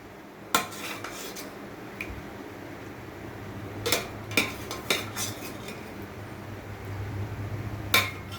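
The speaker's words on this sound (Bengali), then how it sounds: "টক দই দিয়ে এটাকে মেখে নেব।" A spoon mixes uttapam batter with sour yogurt in a bowl, giving sparse, irregular clinks and scrapes against the bowl with quiet stirring between them.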